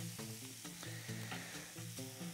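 Kulebyaka pancake batter frying in a pan, a faint, steady sizzle with soft crackles and light clinks of a utensil, no voices.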